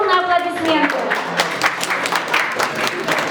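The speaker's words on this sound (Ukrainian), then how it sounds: "Бурные аплодисменты" An audience gives loud applause to mothers at a Mother's Day ceremony in the House of Friendship of Peoples, Komi Republic; a crowd claps steadily and densely, with a voice briefly heard at the start.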